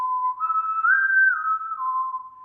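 A person whistles a single clear, sustained tone that glides upward, holds briefly, then slides back down, close and alone with no talking.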